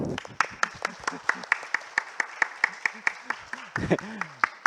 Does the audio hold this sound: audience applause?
yes